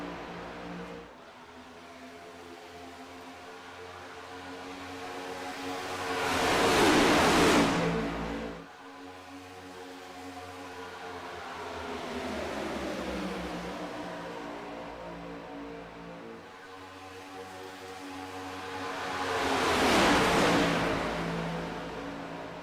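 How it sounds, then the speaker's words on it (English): Race cars at full speed around Daytona International Speedway in a sim racing game, engines screaming as they pass by in two swelling waves, loud roars rising and fading over a constant drone. "These cars literally just screaming at full steam, full song."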